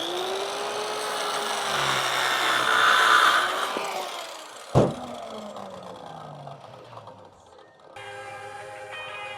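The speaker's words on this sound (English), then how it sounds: "Jigsaw." A jigsaw cuts through lumber for a DIY truck camping build, a steady buzzing drone that swells and then ends in a sharp knock before the saw falls quiet.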